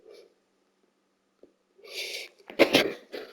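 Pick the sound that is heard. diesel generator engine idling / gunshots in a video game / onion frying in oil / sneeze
sneeze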